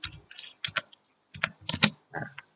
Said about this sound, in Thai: เราพิมพ์คีย์เวิร์ดนี้เข้ามาได้เลย